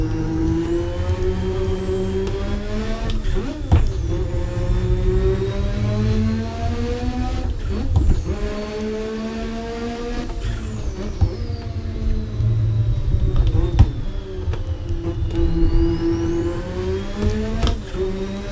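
A race car in Assetto Corsa runs a cautious outlap to warm its tires. The engine drones loudly and steadily, with repeated gear changes and rising and falling revs, and nobody speaks.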